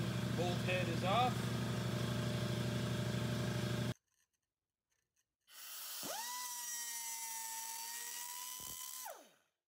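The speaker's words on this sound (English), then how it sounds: "So we're just gonna cut these bolts off" Powered cutting tool slicing through exhaust bolts on a Toyota RAV4: a steady high whine that stops, then a shrill grinding tone spins up and holds for several seconds before cutting off, close and loud.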